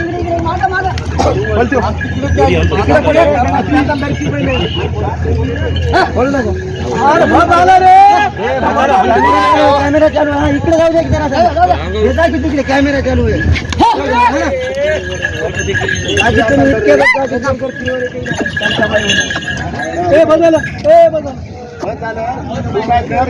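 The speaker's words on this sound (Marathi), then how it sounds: "मंगळवारचा आठवडी बैल बाजार असतो" A dense crowd murmurs and chatters at an outdoor weekly bull market in Vasmat, many voices overlapping steadily with occasional louder calls close by.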